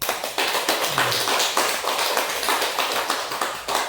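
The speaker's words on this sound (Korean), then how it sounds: "여러분 박수 한번 보내주시죠." An audience claps together in a lecture hall setting, a dense, even burst of applause lasting a few seconds, fairly loud and close, with no talking over it.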